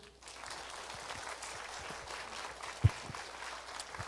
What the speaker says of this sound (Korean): 강사님을 큰 박수로 환영해 주시기 바랍니다